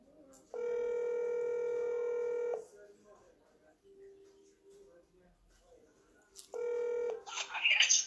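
A telephone call is placed with a long ringback tone, a quiet pause, then a second ring tone, and then a voice answers, all heard close up.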